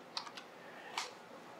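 Quick keystrokes on a computer keyboard at a Ryzen 7 5700G video-editing PC, a short burst of clicks followed by a pause and another sharp tap, close and clear over quiet room hiss.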